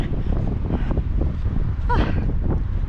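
Strong wind roars and buffets the microphone in a steady, rumbling low rush for the whole moment, with no voices.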